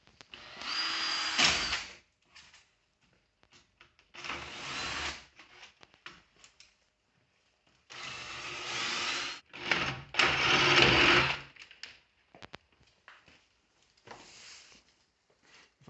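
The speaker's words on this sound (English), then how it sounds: "I'm going to drill a 10 and then use a step drill." Power drill boring holes with a twist bit and then a step drill, in several separate bursts of whirring motor and bit grinding into material, each lasting one to two seconds with quiet pauses between.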